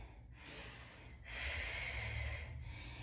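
Someone exercising through pilates squat pulses draws audible breaths, close to the microphone: two sharp, forceful nasal exhales separated by a short pause, with no talking.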